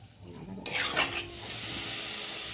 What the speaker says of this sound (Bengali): এবারে সুন্দরভাবে আলুটাকেও আমি এইভাবে ভেজে নেবো মশলার সাথে